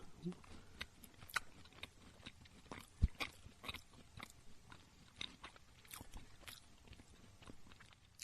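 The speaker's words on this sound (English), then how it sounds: "I'll take a healthy bite. Oh, he's taking a big bite." Loud crunching bites and chewing on buttered toast, with repeated crisp crunches across the whole stretch, close up, and some talk and background noise mixed in.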